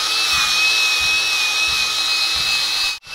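Steady, loud high-pitched grinding of metal on a John Deere logging dozer while prepping it for a winch install, a continuous abrasive whine with a faint low thump, cutting off abruptly near the end.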